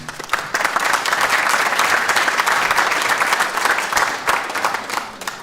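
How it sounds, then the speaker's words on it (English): A graduation ceremony crowd applauds construction management graduates with steady, full clapping that holds at a constant level and tapers slightly near the end. "A round of applause, please, from the Construction Management for England graduates"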